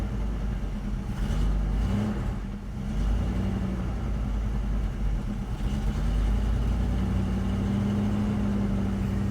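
A 1973 Dodge D100 pickup's engine runs steadily with the choke on after a fuel pump and needle repair, a low rumbling idle with slight surges, close and continuous with no talking.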